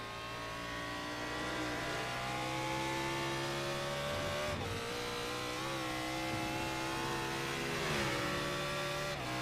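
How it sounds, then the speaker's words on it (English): Race car engine in the iRacing sim at Watkins Glen, holding a steady, loud high-pitched drone with shifting revs and a brief dip midway as it exits a long corner, no talking. "You can almost hear the car lose traction a little bit when you get off corner at the end of the carousel."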